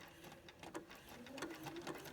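A sewing machine stitches over an applique piece for an orange peel border, giving a steady close whir of rapid needle strokes with no voices.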